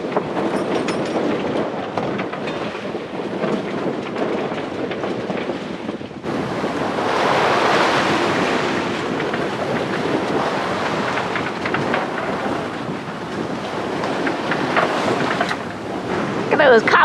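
Strong gusty wind and choppy waves buffet a sailboat with its mainsail up, a continuous loud roar of rushing air and splashing water that swells in the middle, with no clear voices.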